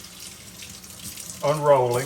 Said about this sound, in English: And then we're going to run water in to make sure they're covered.